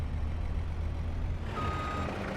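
Steady repeating reversing beeps from a truck in a truck-driving video game, sounding over a constant low engine rumble, clear and close with no talk.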